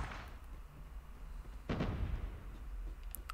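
A single close, booming burst of hip-fired gunfire in the battle royale mode of COD Mobile cuts through a steady low rumble of game ambience.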